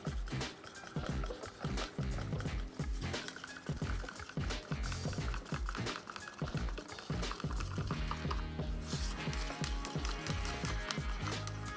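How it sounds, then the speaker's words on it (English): Mica powder being stirred into resin by hand, a steady run of small clicking, scraping strokes against the cup that continue densely and fairly close throughout, with no talk. "So I'm just going to mix that into the resin."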